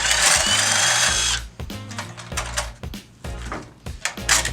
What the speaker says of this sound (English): So let's take this bolt off.